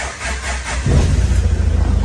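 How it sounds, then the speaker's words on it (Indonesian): VW Kombi diesel engine turns over and catches partway through, settling into a steady close low rumbling idle. "Mesinnya langsung jreng juga ya."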